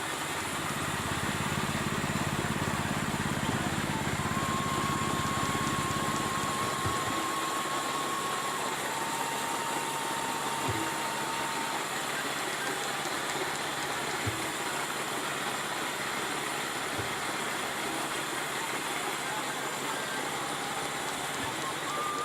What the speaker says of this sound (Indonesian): Kemudian singkong diparut atau digiling dengan mesin parutan